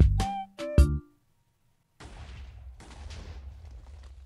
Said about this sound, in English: that actually somewhat launched the TNT, although it did kind of destroy my set a little bit